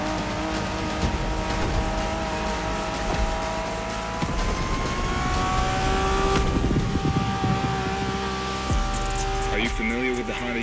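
A 1990s Honda NSX sports car engine roars and revs in The Crew Motorfest, with gear shifts, tire squeals and a voice speaking over the steady engine drone.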